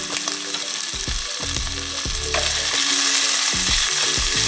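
Red onions and minced fresh garlic fry in oil in a pan over medium-low heat, a loud steady sizzle with intermittent scraping and tapping of a utensil against the pan.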